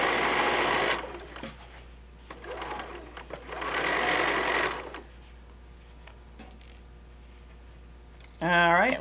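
A sewing machine stitches a fabric bag made from fat quarters in two loud, steady runs of close rapid clatter, separated by a quieter gap; a brief unrelated tonal sound rises at the very end.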